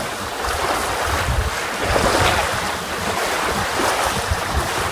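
Wind and waves around a small trailer sailer under way at about six knots, a loud, continuous rush of wind buffeting the microphone over sloshing water against the hull, with no talking.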